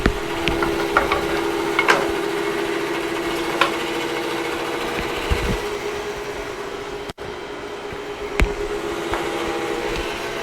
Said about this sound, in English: We need to thin this down on the bandsaw with a nice fresh blade on it.